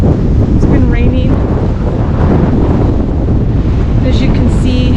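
Strong, cold wind at a beach buffets the microphone in a constant loud roar, with faint voice fragments showing through.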